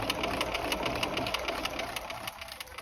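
Sewing machine stitching along a collar or lapel facing seam, running steadily and fairly loud with a fast, even mechanical rhythm throughout, no talking.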